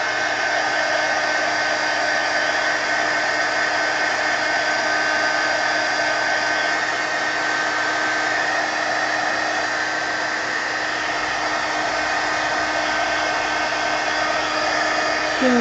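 A hair dryer blowing on an art journal page, a steady loud whirring roar held unbroken and close throughout, with no talk.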